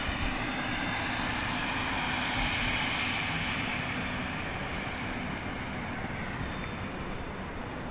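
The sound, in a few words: Cessna 680 Citation Sovereign jet landing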